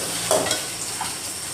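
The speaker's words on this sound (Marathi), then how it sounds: "अशा पद्धतीने मसाला परतवून घ्यायचा" Masala is sautéed in a pan with a close, steady sizzle. A couple of quick stirring scrapes come near the start. Nobody talks.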